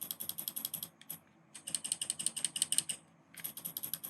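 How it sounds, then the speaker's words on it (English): Rapid bursts of small plastic clicks from the side buttons of a Glorious Model D Minus gaming mouse in quick rhythmic runs, with a brief pause and a longer gap between groups, close and fairly quiet. "This is what the side buttons sound like."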